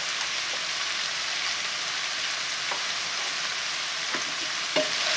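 Sliced courgettes and onion sizzling in a frying pan as they are stirred, a steady bright crackle with occasional soft scrapes of the utensil, close and without talk.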